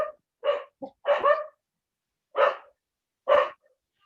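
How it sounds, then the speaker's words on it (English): Several dogs barking, sharp separate barks in an uneven run, close and loud against silence. "the dogs have started barking."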